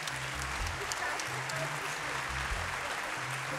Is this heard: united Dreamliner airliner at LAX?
no